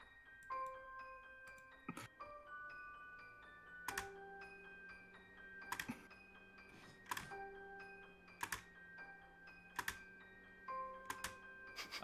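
Irregular keyboard typing clicks, a few quick keystrokes at a time, sit over steady background music and stay fairly faint.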